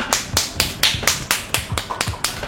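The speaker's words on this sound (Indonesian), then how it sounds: "Kita tepuk tangan buat Putra!" A small group claps hands in a steady, even rhythm of about four claps per second, close and crisp, with no talk over it, at a casual gathering where wagyu rice is sold.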